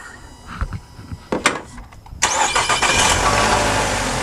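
A 2011 Nissan Altima engine cranks with a few uneven turns, then catches and fires up into a loud, steady run, heard close with a slight squeal.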